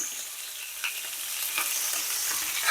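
Sticks fry in hot oil with a dense, bright sizzle and crackle, steady and close, without any talk.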